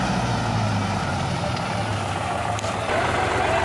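A farm tractor hauling a heavy load of poplar wood strains with a loud, steady low engine drone, its rear tyres sinking under the weight, the roar holding continuously close by.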